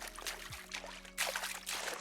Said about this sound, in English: I created splashing sounds for when the character enters the water